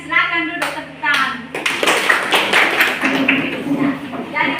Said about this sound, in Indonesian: Silakan duduk tepuk tangan